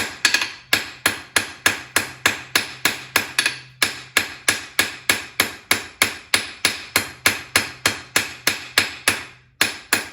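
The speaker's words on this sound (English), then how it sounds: "using a rounding hammer" Sharp, ringing rounding-hammer blows on a hot steel leaf strike in a steady, regular rhythm, about three per second, loud and close with brief pauses.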